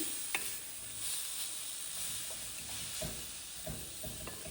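Beetroot frying in a pan for beetroot perugu pachadi, a faint steady sizzle with soft scattered stirring scrapes and taps through the whole stretch.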